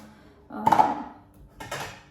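Dishes washed in a kitchen sink at home, two separate clinks and clatters of plates and cutlery about a second apart, close by, with no talking.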